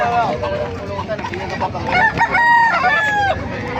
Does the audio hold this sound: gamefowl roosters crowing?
yes